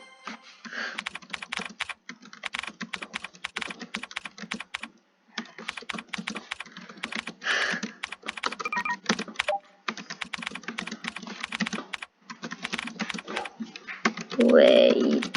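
Rapid computer keyboard typing during a Hancom typing practice session, dense bursts of clicking keystrokes broken by short pauses, close and clear, with a brief voice near the end.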